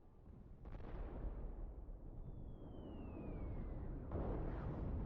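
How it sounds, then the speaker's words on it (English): Distant bombs rumble in a dark sci-fi soundscape, a low sustained roar with a dull boom near the start and another heavy swell later, plus a faint descending whine between them. "you hear in the distance the sounds of bombs"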